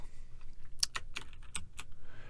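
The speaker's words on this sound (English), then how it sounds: "and then start typing" A handful of quick, light keystrokes on a computer keyboard while searching in music production software, irregularly spaced and fairly quiet, with no speech.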